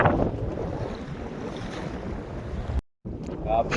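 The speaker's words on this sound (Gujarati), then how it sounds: "આજે આખો દી પવન ફૂલ જ હતો." Strong wind at sea buffets a fishing boat with continuous heavy gusting roar and microphone rumble, cutting out briefly near the end before resuming at full force.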